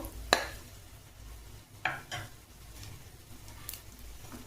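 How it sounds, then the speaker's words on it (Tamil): Cashew nuts frying in a pan for coconut milk rice give a faint sizzle, broken by a few close clinks and scrapes of a stirring spoon. "முந்திரி பருப்பு லேசாக செவந்ததும்"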